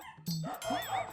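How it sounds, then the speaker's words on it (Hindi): Dogs barking at night on a rainy street, a few short yelps and whimpering barks close by, with no talk. "ऊपर से कुत्ते भी भौंक रहे हैं।"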